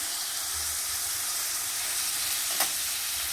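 Chopped onion and curry leaves fry in a pan of hot oil for an egg curry with amaranth stems. A steady close hiss and sizzle runs throughout, with one brief crackle near the end.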